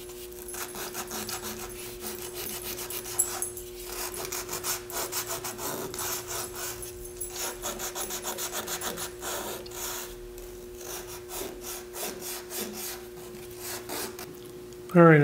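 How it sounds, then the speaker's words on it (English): Hand sanding of a small wood detail on a decorative display piece held on a stationary lathe, soft rhythmic rubbing strokes under a faint steady hum, with a short louder knock at the end. "with my lathe stationary, I'm going to do a little bit of sanding on this detail"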